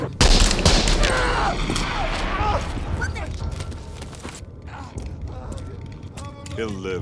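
One loud, sharp gunshot in a Terminator 2 film scene, where a man is shot in the leg, cracks right at the start, then dies away under mechanical clanks and people talking.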